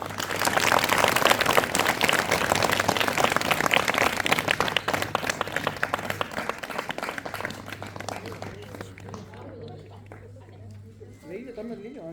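Audience applause fills the room, a dense sustained clapping that stays loud for several seconds, then thins and fades toward the end while voices carry on beneath and after it.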